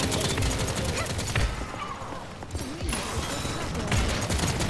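Dense, continuous gunfire from several players in the video game Paladins, rapid overlapping shots forming a steady barrage close by with clattering impacts and game effects, no pauses throughout.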